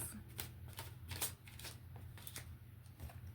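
Tarot cards being shuffled by hand close up, a quick run of crisp flicking riffles and soft slaps at moderate volume, with faint room tone beneath.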